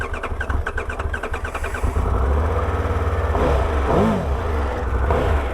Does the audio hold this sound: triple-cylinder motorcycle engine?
yes